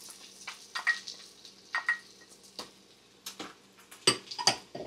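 Garlic and ginger sizzle in a pan for chicken lugaw, with scattered stirring clicks and clinks of utensils over a quiet, soft frying hiss.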